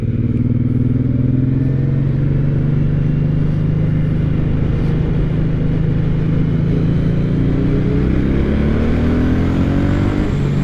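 A Suzuki Boulevard M109R cruiser motorcycle revs hard at full throttle, its engine note rising steadily in pitch as it accelerates, loud and close throughout with no talk.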